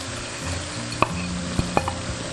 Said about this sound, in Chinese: 开中火炒3分钟左右，把小米椒的水分炒干